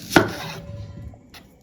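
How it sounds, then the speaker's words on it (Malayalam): A single sharp knife chop on a board as onions are cut finely for a beef burger, followed by a brief clatter and a faint knock, close and alone without speech. "നമ്മൾ രണ്ട് സവോള എടുത്തിട്ടുണ്ട് കേട്ടോ ഇത് നല്ല നൈസായിട്ട് അരിയണം"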